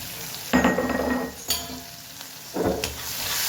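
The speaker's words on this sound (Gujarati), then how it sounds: "મસાલા મિક્સ કરી દઈએ." Spiced dosa masala stirred in a pan, a few scraping spatula strokes and soft clinks over a steady sizzle, close and fairly loud, with no voices.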